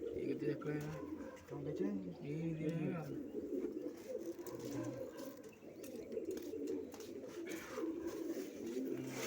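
Pigeons coo softly in repeated low rolling calls, close by, while people talk over them throughout.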